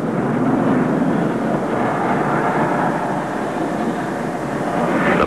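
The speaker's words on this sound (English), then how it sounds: "No warm-up is required of the turboprop engine, which enables the airplane to take off as soon as the turbine is brought up to speed." A delta-wing aircraft's turboprop engine drones with a loud, steady, broadband roar. The sound is constant and close, with no speech.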